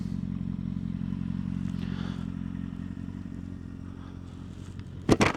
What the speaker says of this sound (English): Make sure our kickstand's down.